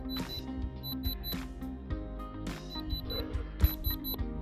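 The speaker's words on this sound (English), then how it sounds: "That beeping means that it's good." An electronic diamond tester beeps in short repeated high tones while a gold bracelet's stones are checked, heard alongside handling clicks and faint room noise.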